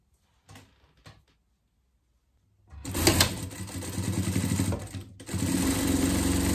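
An overlock sewing machine starts after a few soft knocks and runs steadily and close, a loud continuous whir with one brief pause.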